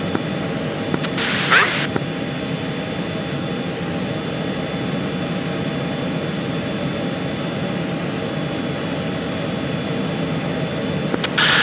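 Jet engine afterburner roar in a flight simulator game: a steady, loud broadband rush of engine noise throughout, with short crackling radio clicks near the start and end.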